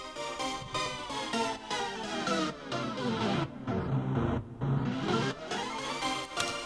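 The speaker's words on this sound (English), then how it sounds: "So it's really sounding like a tape stop." Tape stop effect in electronic dance music production, where synths slow and pitch down so the dense, rhythmic music sags and drags in pitch before recovering, loud and continuous with no talk.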